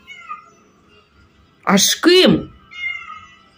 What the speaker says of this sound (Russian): Какой-то звук за дверью кошачий. Так сильно жалобно плачет.